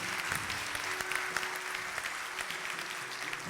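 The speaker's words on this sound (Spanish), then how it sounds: "Aplauda si usted está libre hoy." A church congregation applauding during a Spanish-language service, a dense, steady patter of many hands clapping, continuous and fairly faint with a low background hum and no voices over it.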